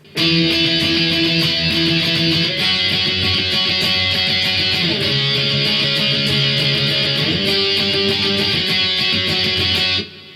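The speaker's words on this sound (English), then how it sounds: "So guitar 1 is going to be doing some chords" Distorted electric guitar playing sustained chords for the guitar 1 part of a song, changing chord roughly every two to three seconds in a steady, loud, dense strum that rings for about ten seconds before cutting off.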